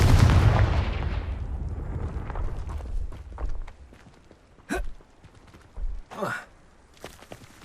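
A Confringo blasting spell erupts in Hogwarts Legacy with a loud, booming burst that decays over several seconds, followed by softer scattered thumps, rumbles and game effects.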